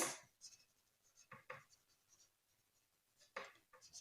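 Pen writing a line on paper for a Class 10 maths solution, quiet scratchy strokes in short bursts with pauses between them, close and faint.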